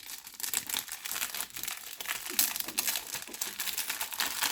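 A sheet of canvas paper crinkles and rustles up close as it is handled, with irregular crisp crackling bursts and no voices.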